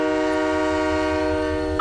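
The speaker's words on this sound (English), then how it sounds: "Last train. Now departing." A departing train in Halo 3: ODST sounds a long steady horn-like tone layered with many harmonics over a low rumbling drone, loud and sustained, with a brief clank near the end.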